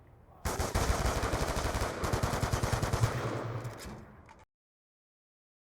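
Sustained rapid automatic gunfire in a video game, a dense burst of shots running about four seconds, loud and close, then cutting to silence.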